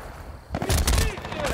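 Suppressed weapon fire in Battlefield Bad Company, with a quiet lead-in that breaks into a loud, dense burst of muffled shots and rumble.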